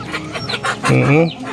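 A hen clucks close up, a few soft notes rising into a louder, drawn-out squawking cluck.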